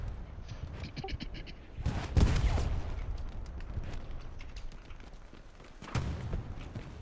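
Gunfire in the Hell Let Loose video game during an infantry squad line battle, with scattered distant shots and a louder nearby burst around the middle, then another sharp burst near the end.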